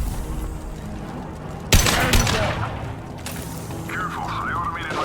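Impact shot gunfire in Mass Effect 2, a sharp loud blast followed by rumbling bursts and crackling over steady game ambience, with a second burst later and a faint warbling effect near the end.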